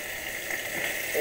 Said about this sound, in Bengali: পোস্ত বাটা নাড়াচাড়া করছি।